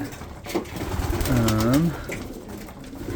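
A breeding-loft pigeon gives a clear rolling coo, rising and falling over about a second, close and prominent against a soft loft background, with brief quieter bird sounds before and after.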